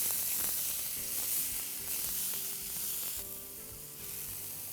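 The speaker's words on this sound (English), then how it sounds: "we're going to add chopped tomatoes to this. And we'll saute it again" Onions and chopped tomatoes sizzle in a pan, a continuous frying crackle with a few brief clinks of stirring, fairly close and with no voices.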